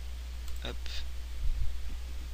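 A computer mouse clicks a few times during website setup, two quick sharp clicks close by, with faint low room noise underneath.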